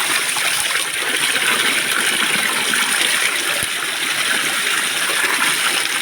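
Cold, clean water flows and drains in a steady, close, rushing stream with a constant splashing hiss and no pauses.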